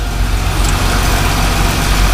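A John Deere 4230 cab tractor, freshly started after sitting about a week, runs with a loud, steady low diesel rumble close by.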